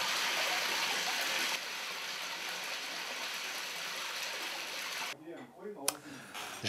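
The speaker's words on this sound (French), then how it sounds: "Tenkawa, la rivière du paradis." Steady rushing water of the Tenkawa river at Dorogawa in Nara, a continuous broadband flow that drops out near the end as a voice briefly speaks.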